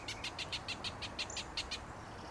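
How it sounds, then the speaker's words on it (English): Small birds chirp in a morning garden, a series of about ten quick, bright tweets in an even rhythm, clear and moderately near over a quiet background. "right now, with the birds singing"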